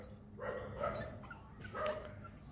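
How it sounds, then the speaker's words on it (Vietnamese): Long-haired Chihuahua puppy giving two or three small, thin yips and whimpering barks at close range, fairly quiet over a soft background hiss. "Đây là giống Chihuahua lông dài."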